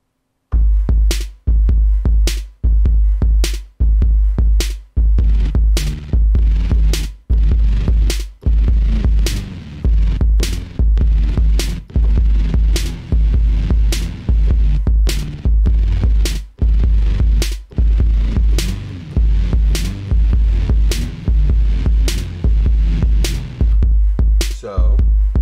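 An FL Studio beat with a boosted, heavy kick drum and bass: deep, loud kicks thump in a steady repeating pattern, with sustained low bass filling the gaps and bright transients on each hit, no talking.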